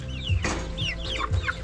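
Chickens cluck and chatter in short squawks and murmurs, several birds close by, with a brief rustle partway through.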